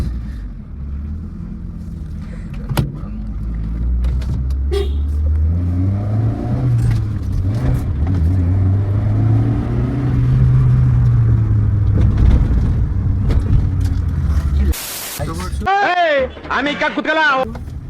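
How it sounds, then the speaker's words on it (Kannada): A 2006 Hyundai Santro Xing petrol car idling after a start, a low steady engine hum rising slightly as it runs, with someone talking over it and a few clicks and rattles near the end. "Smooth engine guys, ಕೇಳಿಸ್ಕೊಂಬಿಡಿ guys. Hyundai engine"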